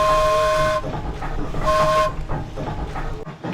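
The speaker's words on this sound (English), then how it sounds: "Carries a variety of whistles on it" A steam donkey logging engine, a wood-fired steam boiler engine at a sawmill, blows two loud, clear whistle blasts with a gap between them, the second shorter, followed by hissing steam and mechanical chuffing.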